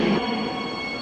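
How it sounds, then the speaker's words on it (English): A Rhine-Ruhr Express train at Köln Hbf station gives off a steady, even rumble with a faint high tonal whine running through it. The sound is fairly close and continuous, with no voices. "Got a Rhine-Ruhr Express service here."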